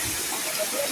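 Water gushing from a water tank at a rural irrigation project, a steady broadband hissing rush, close and continuous through the short moment.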